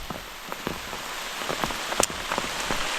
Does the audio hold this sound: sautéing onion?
no